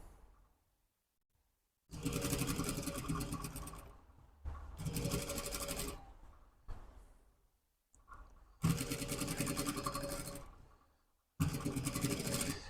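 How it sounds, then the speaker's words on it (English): A sewing machine topstitches the side seam of a hoodie in four loud, steady bursts separated by short pauses, with no talking. "we're going to top stitch the side seam again."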